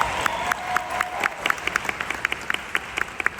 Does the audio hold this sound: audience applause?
yes